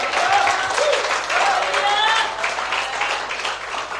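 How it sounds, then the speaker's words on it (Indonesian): A church congregation breaks into applause during a sermon, a full wash of clapping that stays loud throughout, with voices and some tonal sounds mixed in underneath. "Beri tepuk tangan pada."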